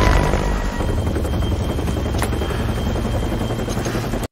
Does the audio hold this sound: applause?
no